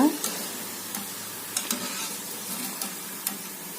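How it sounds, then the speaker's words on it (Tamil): Vada frying in hot oil gives a continuous close sizzle, with a few soft clinks of a utensil stirring and lifting the pieces. "இதே மாதிரி மற்ற எல்லாத்தையும் பொறிச்சு எடுத்துக்கணுங்க"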